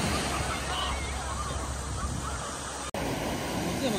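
Waves wash onto a Sea of Japan shore in a continuous broad roar of surf, with wind buffeting the microphone and a brief dropout near the end.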